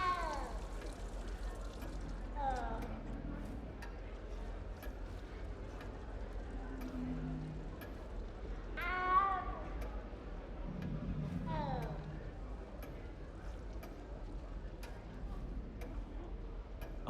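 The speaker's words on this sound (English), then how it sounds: "You don't need to be frightened, little cat." A small frightened cat meows several times in Hogwarts Legacy, its cries rising and falling between quiet game sounds, with a voice speaking at moments.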